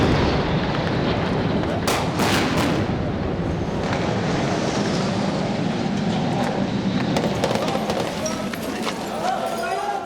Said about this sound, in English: During one sortie, a civilian neighborhood comes under bombardment.